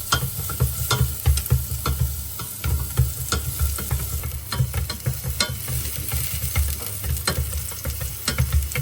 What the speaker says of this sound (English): Then I'll add the shallots and stir-fry them until they're nice and fragrant.